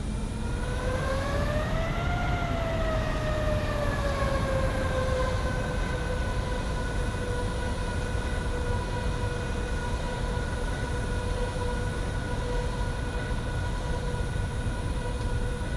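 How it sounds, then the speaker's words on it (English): Jet engines of an airliner in a flight simulator game drone steadily from outside, a continuous tonal whine that rises briefly and settles into a constant pitch over a broad rumbling roar, with no talk. "Let's hear those engines from outside."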